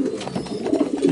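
Soft, low coos from racing pigeons repeat close by in a brief murmuring sequence.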